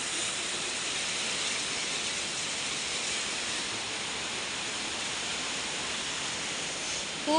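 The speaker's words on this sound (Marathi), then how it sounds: "खूप पाऊस येतोय आज" Heavy rain pours down in Mumbai, a dense, even hiss of falling water that holds steady and fairly loud throughout, with no voices.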